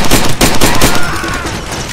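Loud, dense rapid gunfire in the video game Far Cry 2, with overlapping bursts filling the whole moment close and intense.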